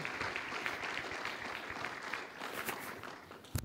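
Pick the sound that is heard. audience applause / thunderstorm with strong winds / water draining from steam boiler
audience applause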